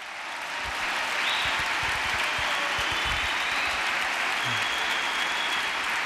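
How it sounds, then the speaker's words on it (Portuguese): A church congregation applauds at a faith convention, steady broadband clapping rising within the first second and holding full and even throughout, with no voices standing out. "Para eles também, uma salva de palmas."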